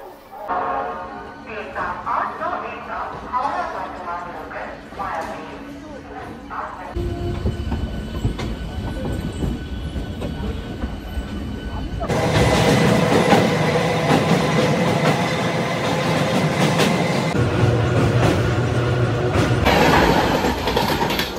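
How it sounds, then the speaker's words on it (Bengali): A local train out of Kolkata runs on its rails with a deep, continuous rumble and rattling wheels that grow louder partway through, while indistinct background voices are heard at the start. "তো চলুন ট্রেনে উঠি।"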